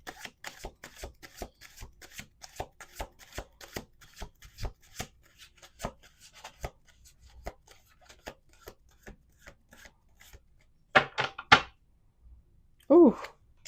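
A deck of tarot cards is shuffled up close in quick, rapid riffling bursts, followed by a few louder card slaps and a brief voice near the end.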